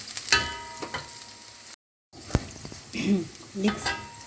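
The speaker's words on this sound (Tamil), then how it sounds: "ஒரு முட்டை சேர்த்து பரட்டிக்கலாம்" An egg stir-frying in a pan with leeks, a soft sizzle with occasional scraping and stirring sounds, briefly cut off, with a person speaking in the middle of it.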